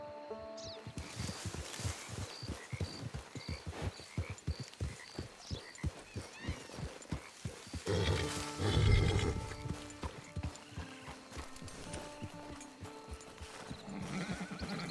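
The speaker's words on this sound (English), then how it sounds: "Get your horse." A horse in Red Dead Redemption 2 clip-clops along in a steady rhythm of close hoofbeats, then snorts and whinnies loudly midway, with frogs croaking in the background.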